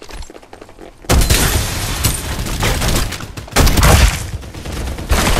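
Dense bursts of gunfire in the video game Farlight 84, with sustained rapid firing and heavy impacts starting after a quiet second, loud and close, with no talk.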